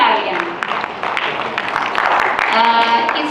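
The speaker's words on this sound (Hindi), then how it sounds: "सही जवाब टीम ए के लिए। जोरदार तालियां।" Applause from an audience at a religious festival quiz fills the hall after Team A answers correctly, steady and fairly loud, with voices talking over it.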